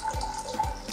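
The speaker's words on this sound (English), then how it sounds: "I'm going to pour this jar of water into this empty vase, very slowly" Water from a jar pours slowly into an empty vase, a short run of soft splashing and gurgling, close by and on its own.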